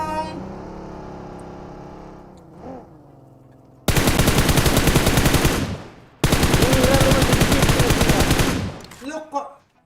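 Bursts of automatic gunfire in PUBG Mobile, two long loud volleys of a few seconds each following quieter game sounds, with a brief tail of scattered shots at the end.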